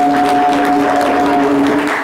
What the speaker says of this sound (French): Les gars, applaudissez-vous.